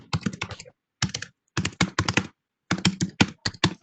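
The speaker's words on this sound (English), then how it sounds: "whoever's typing, we can hear you typing" Computer keyboard typing comes through a video call in close, rapid bursts of key clicks separated by short pauses of silence.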